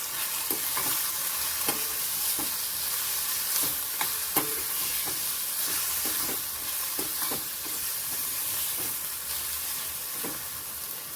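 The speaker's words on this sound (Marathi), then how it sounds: "नंतर थोडीशी धणापूड, थोडीशी हळद, गरम मसाला आणि परत छान परतून घ्यायचं आपल्याला." Pea and fenugreek keema sautéed with coriander powder, turmeric and garam masala in a pan, a steady loud sizzle under repeated spatula scrapes and stirs, close and continuous, no voices.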